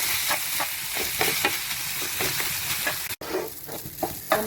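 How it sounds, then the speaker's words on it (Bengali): Shyama grass rice frying in ghee, a dense, bright hiss of sizzling with rhythmic scraping strokes as it is stirred, close by, with one brief dropout near the end. "বন্ধুরা, আমি ভালো করে ভেজে নিচ্ছি ঘাস চালটা।"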